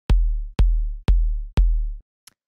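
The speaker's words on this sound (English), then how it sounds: "punchy 808 style kick like this will really do the job" Four punchy, clicky 808-style kick drum hits land at a steady tempo, each with a sharp click and a deep booming tail, followed by a faint tick, dry and loud.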